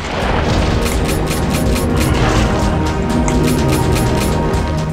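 Shotgun fired in the video game Eternal Darkness: a dense run of loud, close blasts and booms in quick succession, with no pause throughout.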